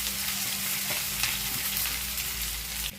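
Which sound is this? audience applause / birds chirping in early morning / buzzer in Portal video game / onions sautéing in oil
onions sautéing in oil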